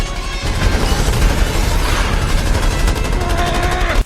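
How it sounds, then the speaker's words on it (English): Twin guns fire nonstop in the VR shooter The Swarm 2 on Meta Quest 3, a dense rapid fusillade of shots and booms that keeps going loud and close, with no voices. "take your twin shootery and shoot them all down"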